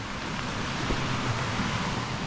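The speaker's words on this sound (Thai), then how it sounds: "มีน้ำไหลตรงนี้" Water rushing and flowing at Bang Pae waterfall in the rainy season, a steady broadband wash with no pauses and no voices.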